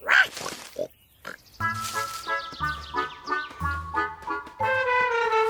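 A cartoon pig grunts and oinks in a series of voiced, pitched snorts, loud and close, with short gaps and a brief quieter pause early on, as in an animated children's show.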